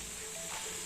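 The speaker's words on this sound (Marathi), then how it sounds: "असे खरपूस शेकायचे" Saptadhanya thalipith, a seven-grain flatbread, pan-roasting to a crisp with a soft, steady sizzle and faint crackle that holds evenly throughout, close and quiet with no voices.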